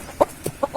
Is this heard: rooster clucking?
yes